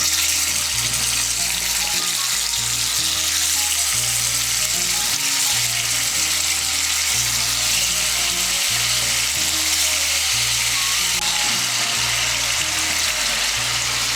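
Lentil dumplings (muitha made from matar dal) deep-fry in hot mustard oil, giving a loud, continuous bubbling sizzle, steady and close for the whole stretch with a low hum beneath.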